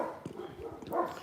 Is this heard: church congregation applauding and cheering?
no